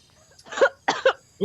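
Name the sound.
person coughing outdoors in the morning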